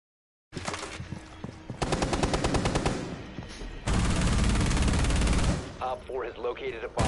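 Rapid automatic gunfire in the multiplayer shooter Rainbow Six Siege, in long loud bursts of close, dense shots with brief gaps and game sound effects near the end; a faint voice may sit underneath.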